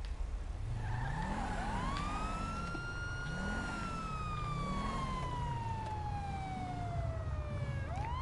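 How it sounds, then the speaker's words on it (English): Police car siren wails in GTA 5, one long sweeping tone gliding down slowly over a steady low engine rumble with a wavering lower siren layer beneath, fairly faint. "Sirens."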